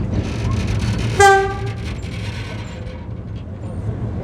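A train horn blasts once briefly and loudly while the train rumbles along a street, with a steady low mechanical drone continuing afterward.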